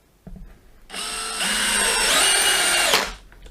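DeWalt DCD701 12V brushless drill driver spinning up with its clutch engaged, a loud close whine that rises and holds for about two seconds with an odd ratcheting edge before stopping, no talking over it.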